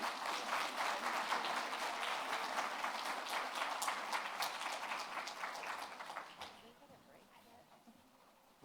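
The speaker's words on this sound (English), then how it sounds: "let's give her another round of applause" An audience at an Indigenous education summit applauds steadily with dense clapping for several seconds, then the applause thins and fades toward the end.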